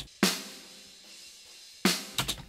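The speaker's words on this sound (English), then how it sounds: "It's the bottom snare mic." Bottom snare microphone track from a metal drum mix, two sharp snare cracks with cymbal bleed ringing between them, followed by a quick pair of softer hits, close and bright with no voices.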